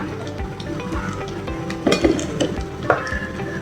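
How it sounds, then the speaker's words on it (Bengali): Sliced carrots, green beans and capsicum are stirred and fried for restaurant-style chowmein, with a steady sizzle under regular scraping strokes and a few metallic clinks of a spatula against the pan. "আমরা হালকা একটু নেড়ে চেড়ে নিব, এটা ভেজিটেবলটা বয়েল করার জন্য।"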